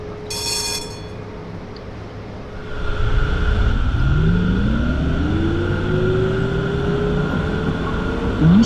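A Frankfurt U-Bahn line U7 train running underground: a low rumble swells as it accelerates, with a rising motor whine and steady rolling noise, heard from inside the car.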